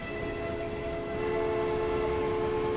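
A train in the video game Transport Fever rumbles along with a sustained horn-like tonal drone, steady and fairly loud over continuous rail noise.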